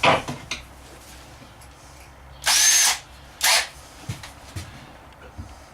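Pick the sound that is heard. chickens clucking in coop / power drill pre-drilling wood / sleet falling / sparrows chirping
power drill pre-drilling wood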